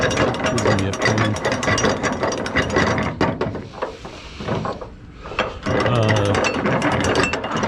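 Ratchet straps on a load of heavy 20-foot pressure-treated lumber are worked in cold, frozen conditions, giving loud, close, rapid clicking pawl ratchets in repeated bursts with a brief quieter gap midway.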